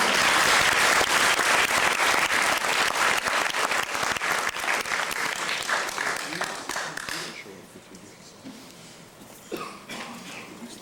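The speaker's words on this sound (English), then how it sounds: "So I really want to give him a round of applause." Audience applause at a student awards ceremony, loud sustained clapping that gradually thins and fades, with voices murmuring beneath as it dies down.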